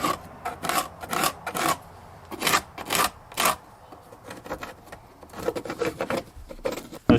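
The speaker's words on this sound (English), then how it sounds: "We'll try to sand that down and just make sure the wood is clean." Wood is sanded by hand on a floor patch, a series of short, rasping scrapes in uneven bursts, close and fairly quiet, with pauses between strokes.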